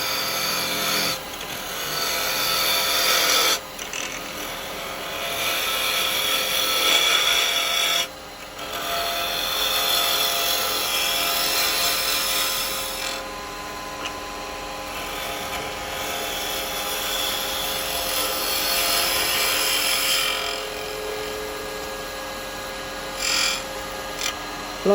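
A wood lathe spins while a carbide chisel turns a resin Christmas bell, giving a loud, steady whirring scrape that runs nearly nonstop with a few brief dips and no talking.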